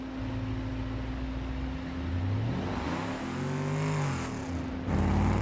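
A truck engine in BeamNG.drive idles and then revs up and down, running hot from a poor radiator. The motor drones steadily and loudly, with rising and falling pitch sweeps in the middle.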